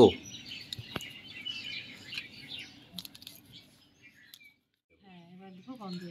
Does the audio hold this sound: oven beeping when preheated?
no